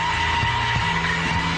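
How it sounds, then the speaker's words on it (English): A Porsche 911 ploughs straight on in understeer with its front wheels fully turned, its tires giving a sustained, even squeal and roar that stays loud and unbroken for the whole moment. "You can see the front wheels are fully turned, but the car is ploughing straight on. This is called understeer."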